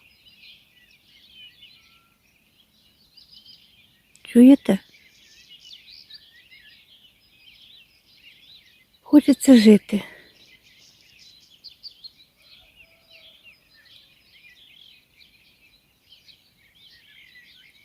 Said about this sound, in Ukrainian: самими першими проснулись пташечки. З весняного лісу лунає такий спів.